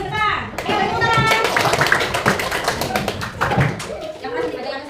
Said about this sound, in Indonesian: Ayo, beri tepuk tangan.